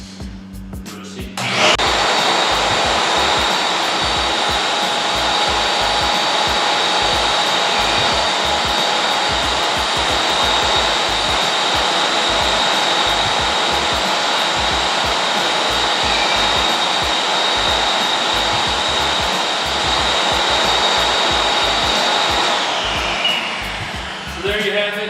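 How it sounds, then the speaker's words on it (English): A powerful HEPA vacuum used on concrete coating work with a 2-inch hose switches on into a loud, steady high-pitched roar. It holds constant for about twenty seconds, then begins to wind down. "Very powerful vacuum."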